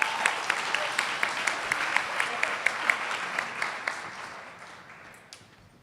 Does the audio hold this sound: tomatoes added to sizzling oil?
no